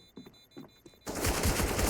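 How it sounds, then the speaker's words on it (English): Gunfire erupts in a Counter-Strike match on the Nuke map, a sudden loud burst of rapid shots after a second of quiet murmuring. "Gets a couple shots off."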